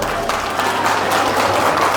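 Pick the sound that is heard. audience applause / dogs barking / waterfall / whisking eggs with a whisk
audience applause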